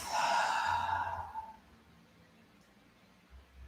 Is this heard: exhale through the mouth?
yes